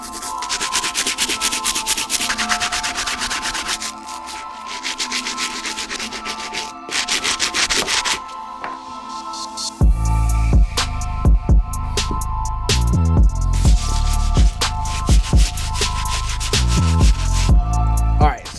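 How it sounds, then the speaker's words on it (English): A stiff bristle brush scrubs the midsoles and soles of Air Max 90 sneakers in a close, continuous rasp, then shifts to louder, choppy strokes with heavy knocks partway through. "grab our stiff bristle brush, the only brush that's able to clean these soles"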